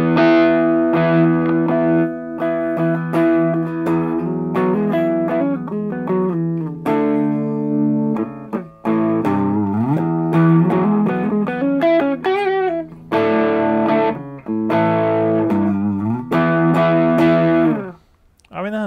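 Electric guitar through a Xotic SL Drive overdrive pedal, voiced like a Marshall Super Lead, with a warm overdriven tone plays chords and bluesy phrases, moderately loud and sustained, with a few brief pauses near the end.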